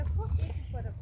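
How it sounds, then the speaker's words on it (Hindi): Horses being led on a hill trail at Tiffin Top in Nainital, their hooves clopping softly and continuously close by beneath steady conversation. "घोड़े पीछे करना"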